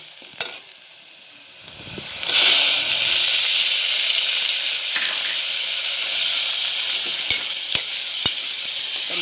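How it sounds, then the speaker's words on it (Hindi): Tomatoes hit a pan of softened onions, setting off a loud, steady, hissing sizzle that runs for several seconds after a few brief clatters at the start. Faint clicks break through the hiss near the end. "अब हमारी प्याज नरम हो चुकी है, इसमें मैं टमाटर डालूँगी"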